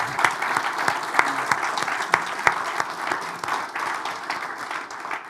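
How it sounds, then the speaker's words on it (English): Enthusiastic audience applause for gala sponsors at a Sunday service in a spiritual life center, dense clapping sustained for several seconds, no voices over it. "let's give them a huge round of applause"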